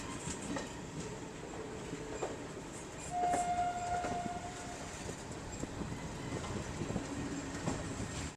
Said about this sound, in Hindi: विजयवाड़ा से अपनी ट्रेन निकल चुकी है